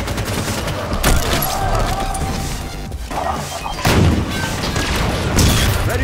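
Rocket launcher blasts and gunfire from Halo 5 Warzone: sharp booming shots around one, three, four and five and a half seconds over a continuous background of battle noise.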